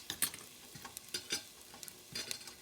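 Crushed ginger, green chili pieces and curry leaves sizzle in hot oil with hing and turmeric for moong dal khichadi, with a few quick spoon scrapes and stirring clatters over a soft, steady crackle, close by and with no talking.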